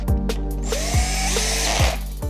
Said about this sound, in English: Reinstall your 6 hex screws.